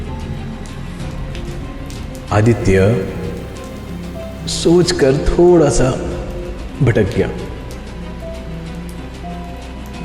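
Heavy rain pouring steadily in a horror story, a constant hissing wash of drops heard under a voice narrating in Hindi.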